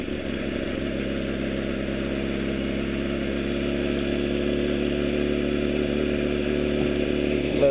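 A motorcycle engine runs steadily through a counter-steered turn, a constant loud droning hum with a strong low tone and no clear rise or fall, close by and with no talk.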